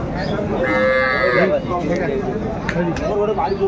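A cow lets out a drawn-out moo close by at the Aftabganj cattle market in Dinajpur, surrounded by people talking over a noisy outdoor background.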